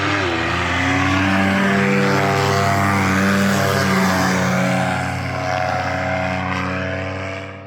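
A paramotor flies through a canyon, its propeller engine droning loud and close with a shifting pitch as it passes, then slowly fading as it moves away.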